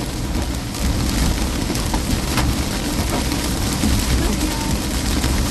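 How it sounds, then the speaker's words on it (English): Hail and heavy rain pelt down in a thunderstorm during an Iowa storm chase, a loud, dense, steady roar of impacts with scattered sharper hits throughout. "There should not be any hail in this spot we're at right now."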